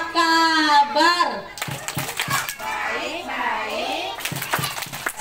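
Kindergarten children chant together in a call-and-response clapping routine, sharp bursts of hand claps punctuating the singing voices, close and lively.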